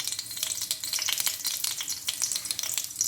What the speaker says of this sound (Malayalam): ഇനി ഇതിലേക്ക് അല്പം കടുക് ഇട്ട് കൊടുക്കാം